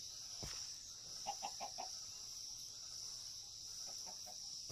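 Minecraft chickens placed in a modded game world give a few faint, short clucks in a quick cluster, then a couple more, over a steady high insect-like chirring hum.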